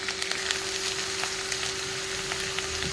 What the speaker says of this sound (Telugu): ఈ దొండకాయలు, ఈ టమాటా, పచ్చిమిర్చి అయితే వేపుకోవాలి.